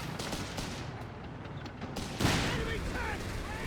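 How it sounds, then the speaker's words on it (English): Machine gun and artillery fire in Company of Heroes 3, with rapid gunfire bursts and a heavy boom midway, under a constant battle din. "Even artillery barraging here. Heavy machine guns from the base getting involved."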